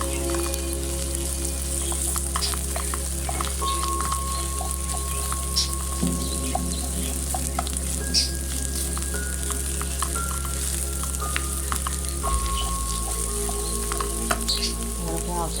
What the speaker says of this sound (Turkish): İşte kokusu çıkana kadar bunu kavrulmak lazım.